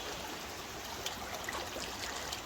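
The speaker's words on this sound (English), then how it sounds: "A little view of the creek." Creek water in Pennsylvania babbles and trickles steadily, soft and close, with no voices.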